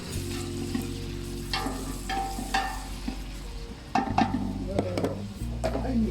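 Chopped onion frying in a hot pan, a steady sizzle with scraping stirring strokes against the pan, under a low hum and brief bits of talk.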